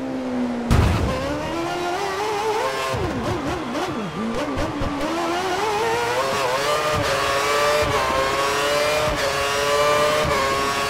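Formula 1 cars from the 2013 Monaco race scream past, engine notes rising and falling with loud revving, gear changes and Doppler sweeps as a group of cars passes close by, continuous and with no talk.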